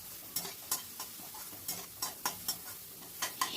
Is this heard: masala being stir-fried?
yes